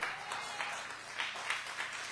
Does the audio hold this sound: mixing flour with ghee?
no